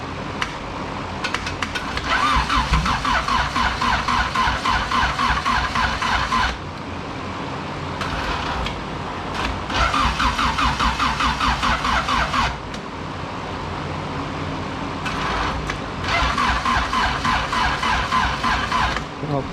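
A turbo Honda D16 engine in an EF hatch with a GTX3576R turbo tries its first start: three long, loud bursts of rhythmic cranking and churning, separated by brief quieter gaps.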